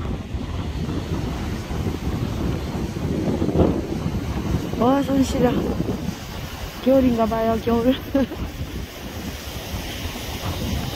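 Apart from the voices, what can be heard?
ocean waves on shore at night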